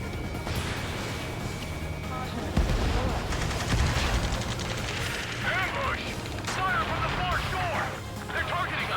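Missile launches and aircraft gunfire in the jet combat game Ace Combat 7, rapid bursts and a heavy blast over engine roar and beeping cockpit alerts, with radio voices talking throughout.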